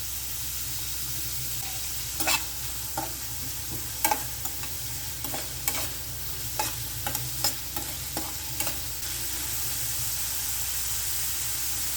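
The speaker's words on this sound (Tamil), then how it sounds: "வெங்காயம் வந்து நல்லா வதங்கணும்." Onions sautéing in a pan as the base for a mushroom masala: a steady loud sizzle throughout, broken by occasional scraping stirs, with no one speaking.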